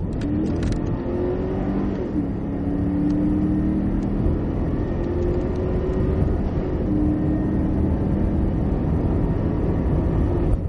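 A Cadillac CTS-V at full throttle on a track, its engine a steady, loud drone with rising harmonic tones that climb through gear changes and hold continuously with no talk.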